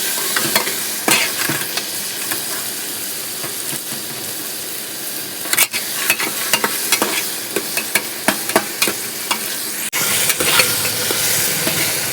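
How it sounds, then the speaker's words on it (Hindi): Steady sizzling of spices tempering in hot oil for dal, with occasional sharp crackles and stirring clinks, continuous and close. "तो अब हम कर रहे हैं तड़का लगाने की तैयारी"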